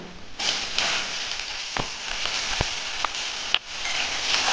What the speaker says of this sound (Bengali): এখন আমি এর মধ্যে এই মূলোগুলো দিয়ে দেবো।